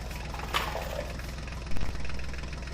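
A tractor carrying a loaded JCB drives along, its engine chugging steadily at close range with a brief louder knock partway through.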